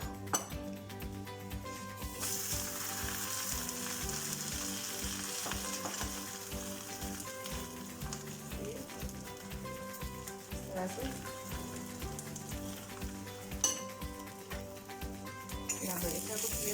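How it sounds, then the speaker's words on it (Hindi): Minced-meat (qeema) parathas frying on a griddle over low heat, a steady close sizzle throughout with occasional clinks of a spoon or utensil, and no talking. "लेकिन मैं अभी इसको अभी तलूंगी क्योंकि आपको मुझे दिखाना है।"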